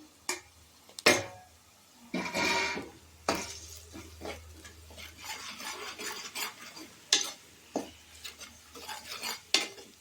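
Salt, chilli powder, ginger garlic paste and curry masala sautéing in a pan for egg gravy, with a spoon scraping and clanking against the metal in irregular bursts over a faint low sizzle, close and fairly loud, with no talking.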